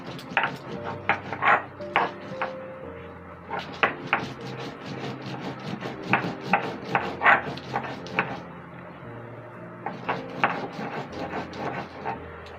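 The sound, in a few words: grinding pumpkin flower, garlic and dried chilies on grinding stone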